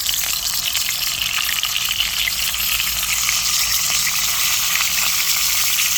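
Short mackerel frying in a hot pan gives a steady, dense sizzle with fine crackling throughout, close and fairly loud, with no talk.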